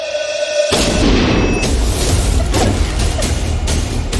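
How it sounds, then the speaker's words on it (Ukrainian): A sudden, loud gunshot-like blast breaks the quiet, followed by a heavy, echoing rumble with a few sharper cracks trailing off. "Затримуєш подих і стріляєш."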